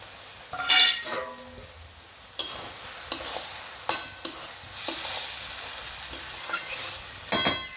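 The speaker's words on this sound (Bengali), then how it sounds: "এরপর এর মধ্যে আমি একটা টমেটো নিয়েছি, কুচি করে নিয়েছি, এটা দিয়ে দেবো" Chopped tomato added to onion greens frying in a pan, with a low sizzle under repeated sharp scrapes and clinks of a spatula against the metal pan, no talking.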